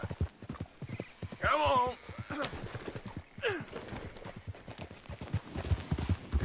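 Horse hooves clip-clop at a steady walking rhythm in Red Dead Redemption 2, with a neigh and a snort partway through and someone briefly speaking over the hoofbeats.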